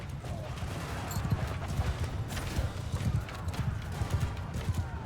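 Horses gallop across a battlefield in the Mount & Blade II Bannerlord video game, with a dense, continuous patter of hooves rising and falling in steady waves, fairly close and loud.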